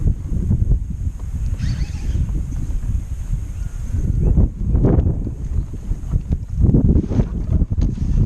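Wind gusting across a lake with boats on the water while fishing, heavy buffeting rumble on the microphone and occasional lapping, loud and continuous with no voices.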